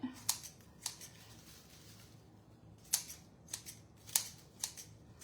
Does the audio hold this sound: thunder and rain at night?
no